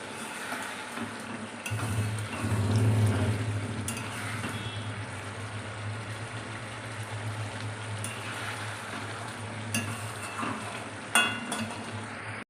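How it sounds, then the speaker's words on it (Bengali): Eggplant fritters (beguni) frying in a pan give a steady sizzle throughout, with a louder bubbling swell early on and a brief clink near the end. "বেগুনি বেগুন কেটে রেখেছি বেগুনি ভাজবো"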